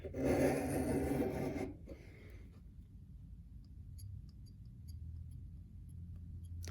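Reed knife being sharpened on a stone with angle guides: a close, steady rasping scrape for about two seconds, then quiet with faint ticks and low room noise.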